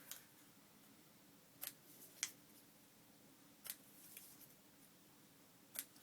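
Scissors trim the corners of a paper label during junk journal crafting, giving a few sparse, crisp snips spaced seconds apart, close and quiet against a faint hiss.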